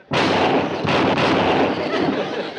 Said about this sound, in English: You count to 3, and I'll draw and fire.